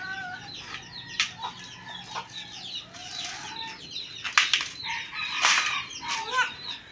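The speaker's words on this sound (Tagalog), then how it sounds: "Yun, mga sisiw." Chickens and small chicks cluck and peep nearby, with bursts of wing flapping and a rooster-like call among them, loud and busy throughout without speech.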